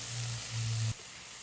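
Fish curry with tomato frying in a pan, a steady hissing sizzle with a low hum that cuts off partway through, leaving only a softer sizzle.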